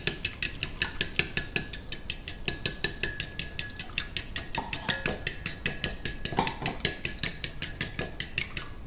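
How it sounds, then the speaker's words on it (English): Eggs and milk whisked together in a bowl for toad in the hole batter, a fast, steady run of bright clinks and taps of the whisk against the bowl, loud and close, continuing throughout. "So keep whisking, add the milk."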